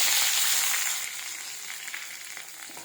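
Onions, curry leaves and coriander stems sautéing in hot oil after mustard seeds have popped, a loud bright sizzle that eases slightly and continues steadily with faint stirring underneath.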